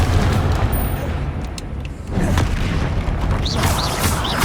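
A Confringo fire-blast spell goes off during a Hogwarts Legacy battle, a loud, dense booming roar with crackling debris that dips briefly then swells again, filling the foreground.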